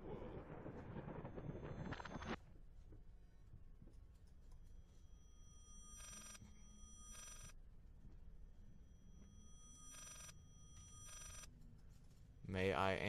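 A telephone rings in the horror video game Layers of Fear, its bell coming in short repeated bursts in two pairs over a quiet, hollow ambience after a stretch of talking at the start.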